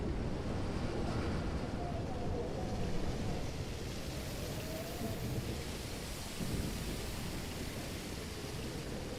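A thunderstorm with rain in the Life Is Strange video game, heard as a steady, dense rush of rainfall with low rumbling, fairly quiet and continuous throughout.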